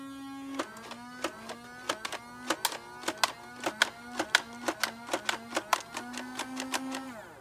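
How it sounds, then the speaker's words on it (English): Nerf SCAR blaster from the Fortnite line firing foam darts down a plain backyard range, a rapid run of about twenty sharp mechanical thwacks with a motor whine between shots, fairly close and with no talking. "Let's send some darts down his way."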